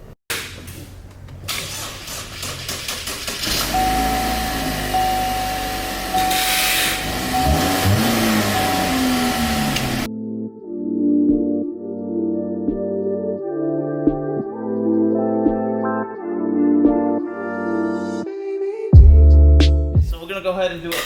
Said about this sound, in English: We'll start it so y'all can hear it run and everything.